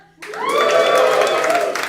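Applause from a live comedy club audience at the Pleasance, a sustained burst of clapping and crowd noise that rises quickly and holds steady for about two seconds.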